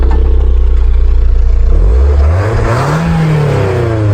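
A BMW Z3 with a blown head gasket revs through its exhaust and muffler, a loud, close idle clatter rising into a growling rev that climbs and settles, rough and mechanical throughout.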